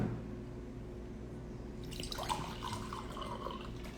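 Water poured into a glass for drinking: quiet room tone at first, then a bright trickling, splashing pour begins about halfway and continues steadily to the end.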